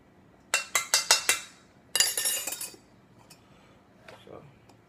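A spoon clinks sharply against a dish four times in quick succession while scooping handmade Alfredo mixture, followed by a longer scraping rattle, then a few faint taps as the kitchen falls quiet.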